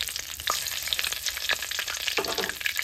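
A bay leaf sizzles and crackles in very hot oil left from frying potatoes for chicken masala, a continuous close hiss with small pops scattered through it.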